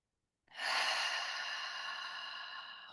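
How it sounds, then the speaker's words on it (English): A single long, deep exhaled breath starts suddenly and fades slowly over a few seconds, soft and close in a quiet room, with no talking. "Just taking one more deep breath."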